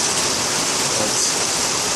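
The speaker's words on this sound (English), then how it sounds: "the rain like this, I'm just praying for the rain to stop at the moment" Heavy rain pours down steadily, a dense, even hiss close by with no breaks or voices over it.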